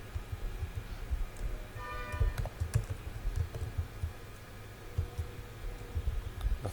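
Code typed on a computer keyboard, a steady run of quiet, close key clicks and taps with irregular rhythm, heard alone without talk.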